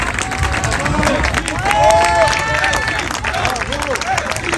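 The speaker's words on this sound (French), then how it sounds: "On peut les applaudir, les éboueurs." A crowd at a public pension-reform rally applauds garbage collectors, loud sustained clapping mixed with cheers and voices of many people talking over it.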